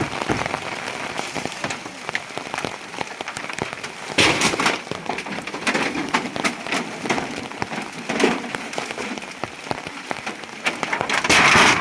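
Rain falling on a roof, a dense, steady patter with scattered louder drops and surges, close and alone.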